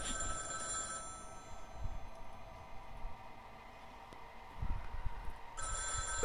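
A telephone rings in a Five Nights-style horror video game, a clear repeating electronic ring with a steady rhythm and no talking.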